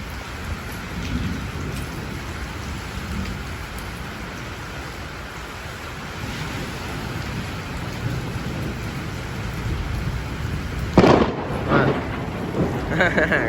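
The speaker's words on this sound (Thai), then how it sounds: "เสียงฟ้าร้องน่ากลัว" Steady rain pours throughout, with a sharp crack of thunder near the end followed by rumbling, loud and close.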